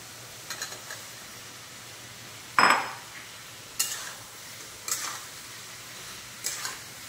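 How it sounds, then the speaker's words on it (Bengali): Elephant foot yam and potatoes stirred with spices in a pan, giving quiet, intermittent scrapes of a spoon against the pan at irregular intervals over a soft background hiss. "এটা ভালো করে মশলার সঙ্গে কষিয়ে নেব"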